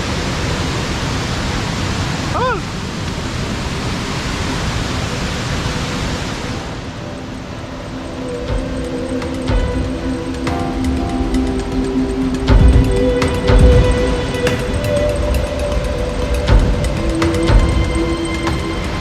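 A large waterfall in Idukki pours and sprays in the rain, a loud, dense, continuous rushing roar that holds steady throughout, with scattered patters and knocks close by.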